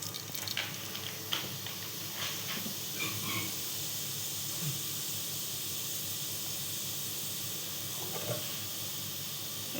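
Cumin seeds sizzle in hot oil in a kadhai, a steady bright hiss that holds without pause throughout, with a few faint clinks of utensils.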